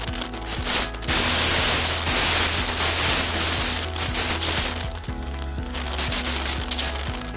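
Holes being made for RCA input and output sockets in the case of a DIY TPA3116D2 class D amplifier: a loud, steady harsh grinding buzz with rapid rhythmic pulsing throughout, no talking.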